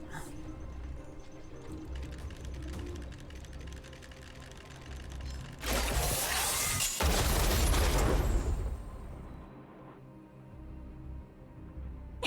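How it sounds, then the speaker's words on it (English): A loud in-game explosion in Honkai Star Rail bursts out midway as a broad roar that holds for a couple of seconds, then fades back into quieter game sounds and music. "We wiped them all out in a single explosion!"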